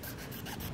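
A rat tail file rasps a notch into the end of a PVC pipe for a homemade bow, giving a brief, quiet run of dry scraping strokes with no talking.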